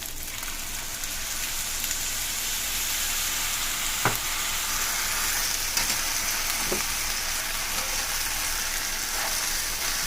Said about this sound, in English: Stir it up, just to coat the sauce evenly.